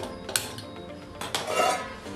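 A metal pot clanks onto a gas stovetop with a couple of sharp knocks, followed by a low kitchen hiss.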